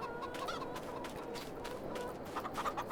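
A large flock of chickens in Farming Simulator 22 clucking and murmuring continuously, soft and somewhat distant, many overlapping calls forming a busy barnyard bed.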